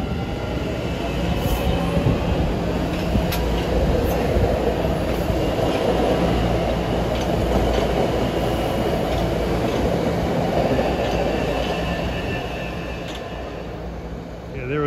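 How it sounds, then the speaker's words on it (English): A Forest Hills bound commuter train on the Haverhill-Reading line rumbles past nearby, a loud continuous roar of wheels and cars that holds steady and then eases off near the end. "There's a Forest Hills bound train."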